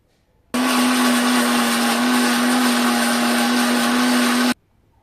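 A kitchen mixer grinder whirs loudly and steadily for about four seconds, pulverizing ginger, onion, small onions and green chilies into a paste, starting and stopping abruptly with no voices.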